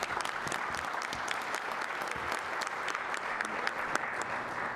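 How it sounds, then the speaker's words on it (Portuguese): Audience applause for a presenter at a Spanish-language tech talk on software routers, a dense steady wash of many hands clapping, moderately loud and continuous throughout with no talk over it. "Por favor, un aplauso a Junior."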